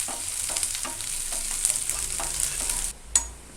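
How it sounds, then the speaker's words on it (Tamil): Shallots sizzle steadily in hot ghee in a pan, with repeated stirring scrapes, the frying cutting off near the end. "ஆனால் கோல்டன் கலர் வர அளவுக்கு நெய்யில் வதக்கணுங்க."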